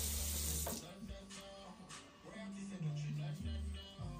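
Cold water running from a kitchen tap into a vessel for bofrot dough, a steady rushing stream at the start that gives way to clinks and handling noises, with music playing underneath.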